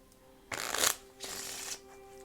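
Two quick bursts of cards being shuffled, the first louder riffle followed by a shorter second one, close up with a faint steady hum behind.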